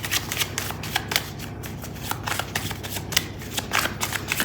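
Tarot cards being shuffled during a reading, with a steady run of close, crisp riffling and flicking bursts that continues for the whole stretch with no voice over it.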